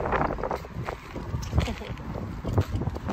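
Outdoor wind in Finland buffets the microphone with a continuous low, gusty rumble that swells and dips, loud and close, with family voices faint beneath it.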